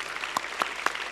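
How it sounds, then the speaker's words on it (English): A handful of sharp claps, about four, evenly spaced and fairly quiet over a steady background hiss, from an audience at a smartphone unveiling press conference. "Round of applause,"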